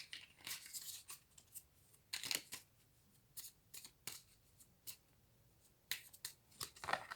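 A deck of Marseille tarot cards being cut and handled, a series of crisp papery snaps and slides in uneven bursts, close up and with no talk.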